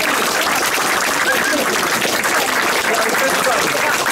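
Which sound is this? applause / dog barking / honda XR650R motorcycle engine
applause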